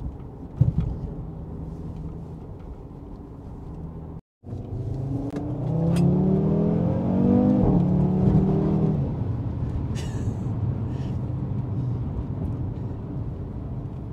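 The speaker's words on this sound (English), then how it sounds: "And it's just got the blipping on downshift and it crackles and it's a very good noise it makes." A 2018 Audi RS3 saloon engine starts with a low idle, then after a brief gap revs up in a loud rising sweep and settles back toward a steady rumble, heard close with no talking.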